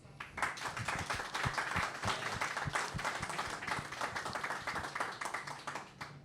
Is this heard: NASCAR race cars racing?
no